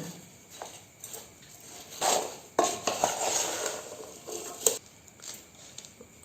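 A spoon stirs homemade pickle in a container, giving soft repeated scrapes and a few metallic clinks at close range. The sound is fairly quiet, with no talking.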